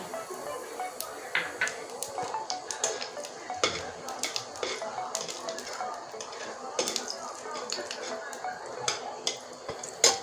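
Black cumin (nigella seeds) temper in hot oil with a light sizzle, mostly covered by frequent scraping and clinking of a metal spoon against the pan.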